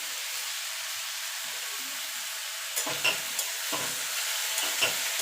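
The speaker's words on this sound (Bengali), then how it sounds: "এবার একটুখানি মিনিট খানিক একটুখানি নাড়াচাড়া করে নেবো" Bottle gourd peels with salt and turmeric are fried in a pan, a steady hissing sizzle with a few light scrapes and taps of stirring in the second half.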